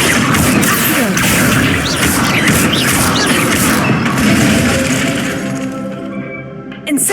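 In the video game Hogwarts Legacy, a spell is cast at practice targets, loud crackling bursts and crashing impacts with whooshing sweeps, sustained and dense before fading away.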